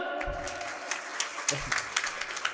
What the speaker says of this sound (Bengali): ছেলের জন্য একটা করতালি দিবেন না?